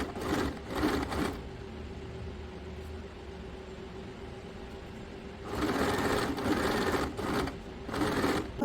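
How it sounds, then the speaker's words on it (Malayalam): An electric sewing machine stitches cushion cover fabric in three bursts, near and clear, with a quiet pause between the first burst and the last two. "ഈ ഒരു ബാക്ക് പാർട്ടും ബാക്ക് ഇന്നർ പാർട്ടിൻ്റെയും ഒരു സൈഡ് നമ്മൾ തയ്ച്ച് കഴിഞ്ഞിട്ടുണ്ട്"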